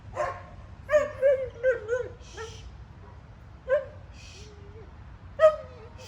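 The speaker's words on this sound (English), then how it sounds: "these are puppy barks" A young dog gives about six short, high-pitched yipping barks in an uneven rhythm, close by, with quiet gaps between them.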